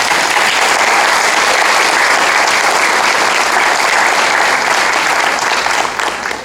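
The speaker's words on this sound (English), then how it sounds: "Give them another round of applause." An audience gives sustained applause at a congressional address on parental engagement in schools, a loud, even roar of clapping that holds steady before tapering off at the end.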